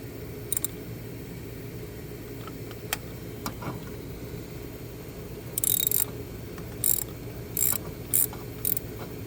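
Ratchet loosening spark plugs on a 2008 Nissan Xterra during a tune-up: a steady mechanical hum underneath, with a few isolated clicks early on, then several short bursts of loud, rapid ratcheting toward the end.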